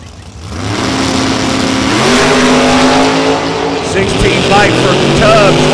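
Drag racing at a dragway as a dragster and a door car launch, loud roaring engines revving and climbing in pitch, sustained and close, with a busy mix of engine tones and an announcer talking over it.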